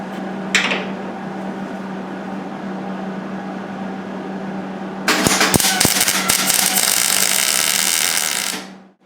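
MIG welding on Triumph Spitfire steel sill panels starts after a low background hum and a brief click, then runs as a loud, dense crackling buzz for several seconds before cutting off.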